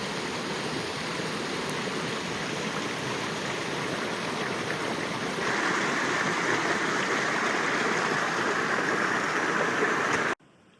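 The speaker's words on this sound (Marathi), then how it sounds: "हे डोंगरावरचे धबधबे असते ना छोटे." A small waterfall on a hillside rushes steadily, a broad continuous wash of falling water that grows slightly louder midway before cutting off abruptly near the end.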